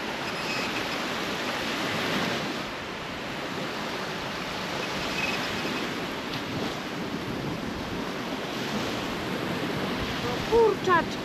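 Sea waves breaking on a Baltic beach at Krynica Morska, a continuous broad wash of surf with wind rumbling across the microphone, steady and fairly loud for the whole stretch.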